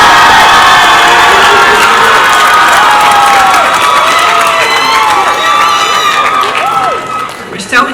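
A large crowd at the UC Santa Barbara 2023 commencement cheers and shouts loudly and without a break, full of whoops and high excited voices, easing off slightly near the end.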